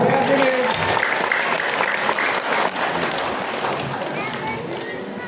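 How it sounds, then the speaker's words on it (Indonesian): A large audience of Islamic boarding school students and guests at a Quran and Hadith graduation ceremony applauds steadily, dense clapping that holds loud throughout and fades slightly toward the end. "berikan tepuk tangan yang meriah"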